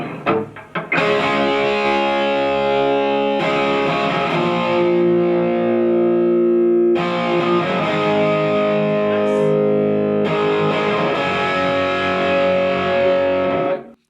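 Overdriven electric guitar playing a main rhythm part during a guitar recording session, loud distorted chords held and restruck in long sustained blocks with brief breaks between, thick and close.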